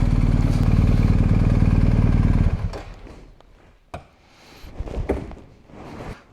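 A BMW R1250GS motorcycle idles with a loud, steady low rumble, then the engine cuts off and clunks and clatters follow as the bike is parked, close by and with no talk.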